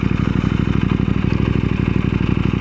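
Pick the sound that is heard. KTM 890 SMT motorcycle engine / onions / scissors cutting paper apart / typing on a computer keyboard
KTM 890 SMT motorcycle engine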